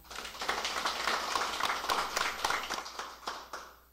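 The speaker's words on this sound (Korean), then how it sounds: "하상원 신장일동 동장님의 인사 말씀이 있겠습니다. 큰 박수 부탁드리겠습니다" Clapping from attendees at an online neighborhood residents' assembly welcoming the community center head, a quiet scattered patter of individual claps that fades out toward the end.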